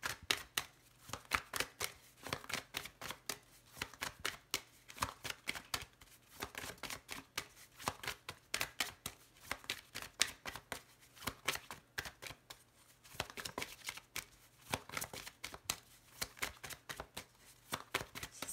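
Tarot cards are shuffled continuously in a steady, rapid riffling flutter, close and moderately loud, in repeated waves with brief pauses between rounds.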